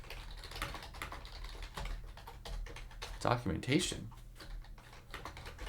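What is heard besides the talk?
typing a name on a computer keyboard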